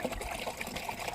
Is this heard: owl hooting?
no